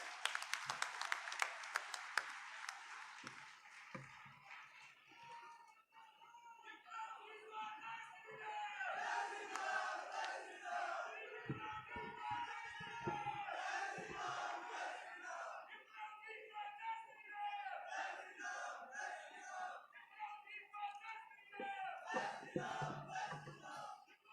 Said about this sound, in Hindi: ताली बजा के स्वागत करो विप्लव कुमार जी का